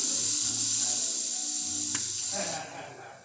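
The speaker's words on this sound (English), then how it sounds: "We got the steam" Steam wand on a Quick Mill Silvano espresso machine hissing steadily and close, a bright continuous rush that tails off near the end.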